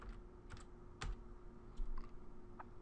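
Fingers tap out a short word on a computer keyboard, a few scattered clicks and light keystrokes, fairly faint, over a quiet room hum with no talking.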